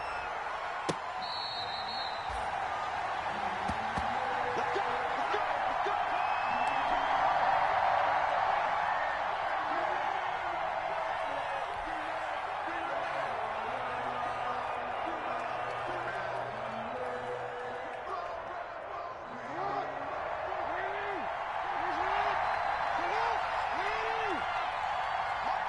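A stadium crowd roars steadily at an NFL video game matchup between the Baltimore Ravens and Denver Broncos, a dense continuous wash of cheering with a commentator talking over it.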